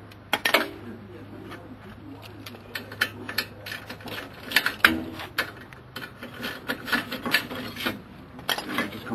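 A wrench works loose the brake caliper carrier bolts so the rotor can come off, giving repeated scraping, rasping metallic turns in short bursts, close and fairly loud.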